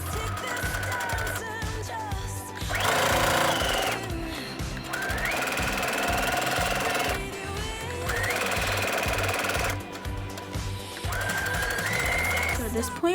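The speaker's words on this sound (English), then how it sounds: "I'm sewing with the machine, so I'm going to do the same thing" An electric sewing machine stitches fabric for handwarmers in four long whirring runs, each a loud, close, rapid mechanical buzz. Short quiet gaps separate the runs, and the machine's pitch shifts slightly as the speed changes.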